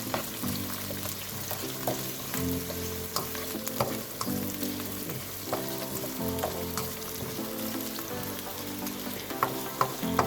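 Two medium onions fry in a pan for a galavat qeema recipe, giving a steady, close sizzle with a few soft stirring knocks and no talking.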